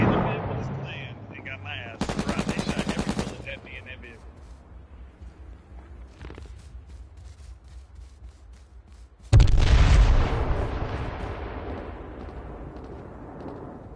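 Rapid bursts of automatic gunfire and loud booming shots ring out in a PS4 battle royale game, the firing sharp and close between stretches of lower game ambience and talk.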